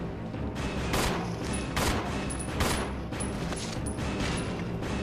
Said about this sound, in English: So the handgun is the Beretta M92F, which is a real-world handgun.